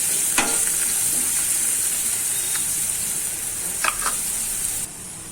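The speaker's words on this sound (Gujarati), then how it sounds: "આ બધું આપણે મિક્સ કરી દઈશું આ રીતના." Fenugreek leaf (methi bhaji) mixture sizzles steadily in a hot pan while a spoon stirs it, with a few sharp scraping strokes over the constant frying hiss and no talking.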